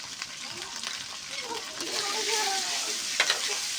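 Spices for a silver carp dopiaza are stirred in a hot pan, a soft scraping and sizzle with a few louder clinks near the end, fairly quiet and close.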